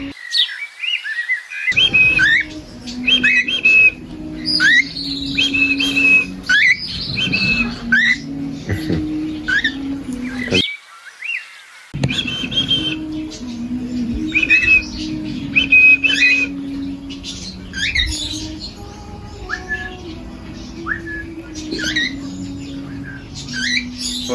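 Parrots being hand fed seeds whistle and chirp repeatedly in bright, up-close bursts, with a short pause and some soft background voices.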